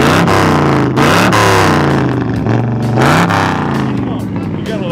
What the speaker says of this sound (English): Would you blip the throttle? It sounds so good.